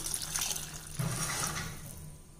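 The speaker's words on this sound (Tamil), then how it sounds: "நம்ம தேவையான அளவுக்கு தண்ணி விட்டுக்கலாம்." Water is poured into a pan of potato kurma, a brief splashing, trickling pour heard close by.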